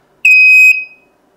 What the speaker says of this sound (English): causing the device to play a sound. Some play music, some just have a very loud, annoying